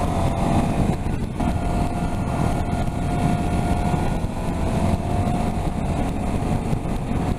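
A KTM 790 Adventure motorcycle rides along country roads, its engine a steady, close drone with wind rush that holds without a break and no one speaking.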